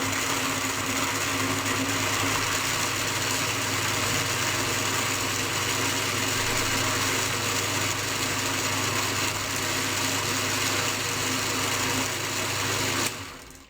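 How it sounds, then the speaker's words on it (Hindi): An electric kitchen grinder whirs steadily at high speed while blending falsa berries with water, a loud continuous motor drone with buzzing vibration that holds for about thirteen seconds before cutting off abruptly. "अब आपने इनको सिर्फ 30 सेकंड के लिए ग्राइंड करना होगा।"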